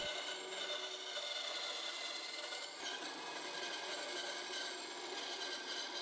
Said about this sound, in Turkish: Yapıştırıcı kurduktan sonra ilk önce fazlalık olan kısımları testerede kesiyorum.